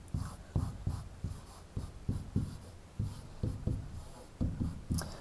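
A pen writes on paper while someone jots down a probability value during a binomial hypothesis test, giving short, scratchy strokes in quick bursts, close and fairly quiet, with no talking.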